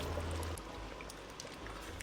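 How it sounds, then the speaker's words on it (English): Water is poured into a pot of egusi soup to rinse it, giving a steady, close trickling stream that runs for about two seconds with no talking. "And then I mix this back to the stock, rinse it with water"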